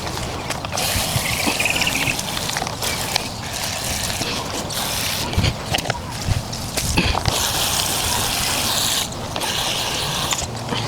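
Potted flowering plants get watered by hand, with trickling water and wet soil sounds mixed with clunks, scrapes and handling noises from the pots, close and irregular.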